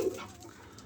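A male dove gives a single short, low coo close by, soft and brief, then fades into quiet background noise.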